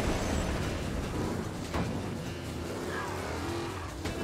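An overheating car engine in Mafia Definitive Edition drones loudly and continuously, rising and falling as it revs, with faint tire noise and no talking.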